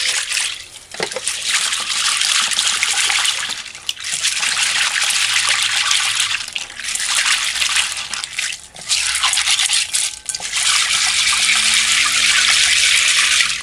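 Tap water runs steadily while a pig's tail is rinsed under it in a kitchen, a loud continuous splashing stream with a few brief breaks, no talking.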